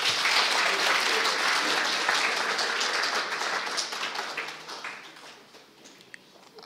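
A lecture audience claps after an inaugural university lecture, with dense applause that starts full and steady, then thins and fades over the last few seconds into scattered claps.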